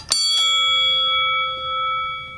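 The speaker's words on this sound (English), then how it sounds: "this is the bell that was on ISU's boxing ring" An old boxing ring bell from ISU, used to signal the end of rounds and fights, is struck twice in quick succession, then rings on with a clear, bright metallic tone that slowly fades, close and alone.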